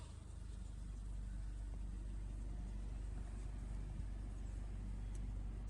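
A 2016 Jaguar F-Pace 2.0d Portfolio AWD diesel, started and idling, gives a steady low rumbling drone, even and unbroken at moderate level, with no voices.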